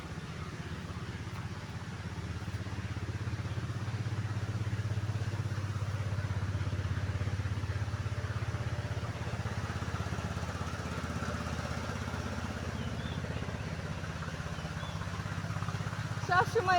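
A motorised engine boat on the Manu river drones with a steady low rumble, held at a constant level, moderately near and unbroken throughout.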